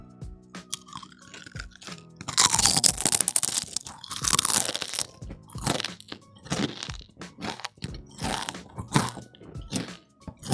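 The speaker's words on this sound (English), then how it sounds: "That was the sound of the chip hitting my teeth." Crisp, loud crunches of a Sweet Maui onion kettle-style potato chip being bitten and chewed close up, one big bite followed by a run of sharp, irregular chewing crackles.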